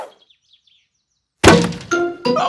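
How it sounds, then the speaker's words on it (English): A football smashes into a glass greenhouse with a sudden loud crash and breaking glass, followed by two further sharp impacts, after quiet faint birdsong. "People who live in glass houses should not throw footballs."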